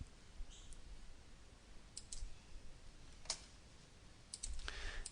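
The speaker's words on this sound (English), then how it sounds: "I press S on my keyboard" Keys pressed on a computer keyboard to start a game from its menu screen: a few quiet, sparse clicks scattered over faint background hiss.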